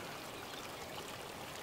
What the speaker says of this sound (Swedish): Ljudet av vatten som brusar.